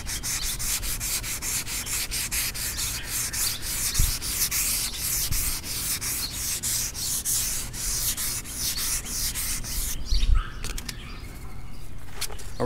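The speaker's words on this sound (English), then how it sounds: "Finished up with all the wet sand." Hand wet sanding of car paint on an OBS Chevy Silverado, a steady close rhythmic scrubbing of strokes that keeps going throughout, with a couple of soft knocks partway through.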